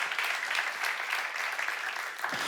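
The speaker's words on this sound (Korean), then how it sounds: "박수야" Steady applause from a church congregation during a sermon, dense and continuous throughout with no pauses or talking.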